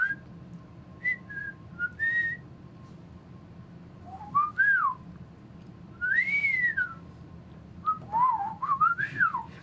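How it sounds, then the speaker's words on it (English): A person whistles a loose, wandering series of rising and falling notes in short phrases with pauses between, fairly close and clear over a low background hum. "You said I'm bad at whistling and then continued to Yeah, whistle"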